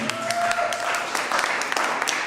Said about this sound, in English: clap if you love your president